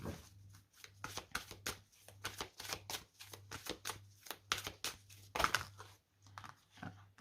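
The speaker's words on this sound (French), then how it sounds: "On va prendre une carte supplémentaire." Tarot cards being shuffled by hand for an extra draw, giving a steady run of soft riffling and flicking bursts, close and fairly quiet, with a low hum underneath and no talking.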